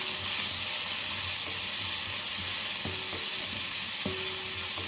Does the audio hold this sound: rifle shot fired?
no